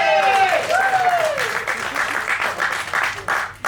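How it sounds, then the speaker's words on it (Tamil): An audience breaks into applause, dense clapping that swells and holds steady, with a thin whistle-like tone early on and some voices mixed in. "தயவு செஞ்சு நீங்களே ஒரு தடவை கைத்தட்டுங்க"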